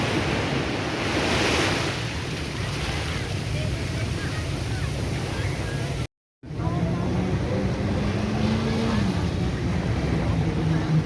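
Sea surf rolling onto the beach at Nha Trang, Vietnam, a steady broadband wash of waves mixed with wind buffeting the microphone, continuous and fairly loud with a brief dropout midway.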